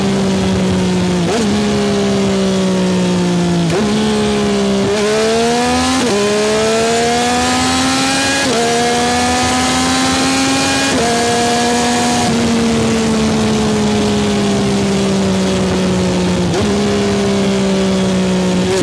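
A Yamaha R9 motorcycle accelerating hard at high RPM with a quick shifter, the engine note climbing steadily and dropping sharply at each rapid upshift, repeated several times, loud and close, with wind noise underneath and no talking.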